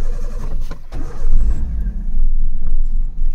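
A Maruti Suzuki Zen car idles with a low, steady rumble, quiet and even, heard up close for a few seconds with no talk.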